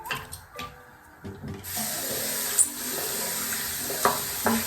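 Water from a tap runs steadily as a broad hiss that starts partway through and continues to the end, after a few quieter clicks and handling noises at the start.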